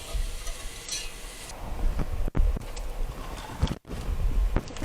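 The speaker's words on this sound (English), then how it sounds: "We just pour a little bit of this stock in. Just keep on whisking." Stock is whisked into a nut-flour gravy for pot roast, a continuous close scraping and sloshing with a faint sizzle underneath and a few abrupt knocks of the whisk against the pan.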